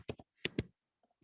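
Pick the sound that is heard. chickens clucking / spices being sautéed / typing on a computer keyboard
typing on a computer keyboard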